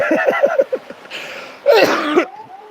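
A quick series of short coughs, then a louder burst of harsher coughing, close by with no talking.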